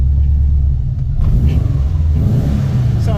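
Subaru EJ207 engine in a swapped WRX wagon, running on a Haltech Elite 2500, idling and revving with a loud, deep, close rumble that holds steady throughout.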